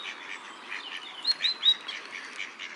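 Ducks calling in a city park, Queens Park, with a few short quacking notes in a brief cluster against soft background chirps and ambient hum.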